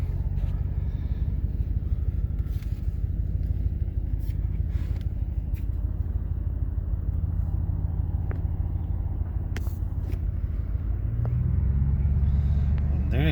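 A car with an automatic transmission idles in a steady low rumble, recorded close, with no clear moment where a gear engages.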